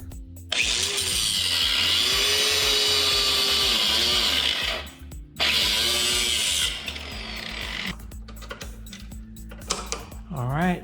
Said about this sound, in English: It's easier just to grind a piece of that off and it falls right out instead of messing with it.